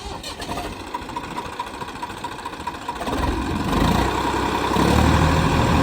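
A Swaraj tractor engine cranks with a self-starter motor, then catches and rumbles into a loud, low idle that grows heavier.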